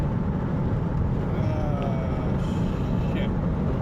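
A car drives along Highway 84, its steady, loud road and engine rumble filling the cabin with a faint tonal whine and small clicks on top.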